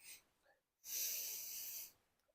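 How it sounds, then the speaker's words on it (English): A single sharp, breathy inhale of roughly a second, close up, as someone sniffs a glass of straw-coloured wheat beer with a white head, followed by faint quiet breathing. "let's get in there and have a sniff"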